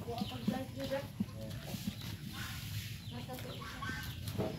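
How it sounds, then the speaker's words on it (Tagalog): Chickens clucking on a farm, a few soft, scattered clucks at a distance beneath louder nearby chatter and outdoor background noise. "may mga manok siya dito"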